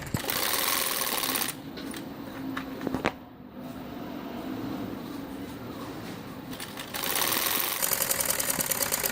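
A sewing machine stitches the last edge of a ladies' ban collar neck with a V neckline, running in steady bursts at the start and end with a quieter stretch of handling in between.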